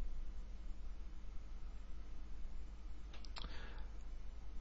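A couple of quick, soft computer mouse clicks sound close together, faint against a steady background hiss.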